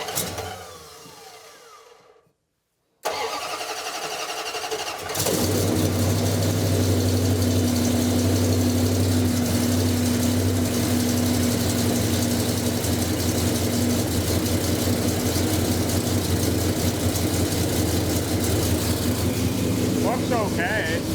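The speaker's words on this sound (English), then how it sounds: "let's fire it up and see if that's leaking" A 1989 Dodge D100 pickup's carbureted 318 engine cranks after a short silence, catches, and settles into a loud, steady, close-up idle that runs without break.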